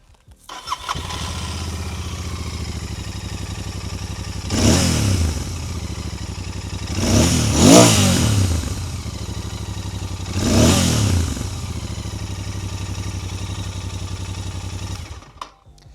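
A Royal Enfield Continental GT motorcycle starts with a deep, bassy, thumping idle, then rises in three strong throttle revs, each falling back to the loud, steady idle before the engine cuts off.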